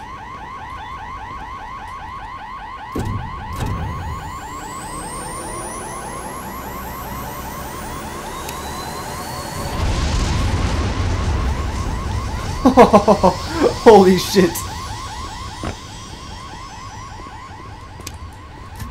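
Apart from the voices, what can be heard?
alarm from video game Black Mesa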